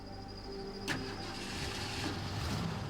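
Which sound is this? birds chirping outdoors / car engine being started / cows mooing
car engine being started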